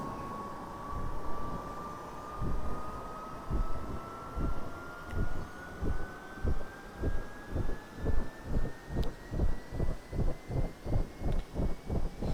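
Light aircraft engine winding up as the throttle opens, a rising tone climbing steadily in pitch, with rhythmic pulsing beats that quicken and grow more regular, close and loud.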